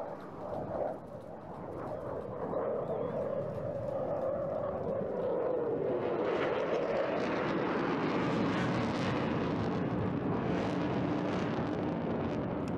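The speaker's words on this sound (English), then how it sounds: "we have clearances in place to enable Turbo just to set this jet on its tail and say farewell" A Eurofighter Typhoon jet climbs steeply away at the 2024 Eastbourne Airshow, its engine roar building to a loud, sustained rumble with a rising broadband rush that holds steady to the end.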